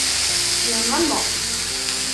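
Batter-coated fish fries on a buttered pan for Amritsari fish fry, a steady close hiss of sizzling throughout with a brief voice murmuring near the middle.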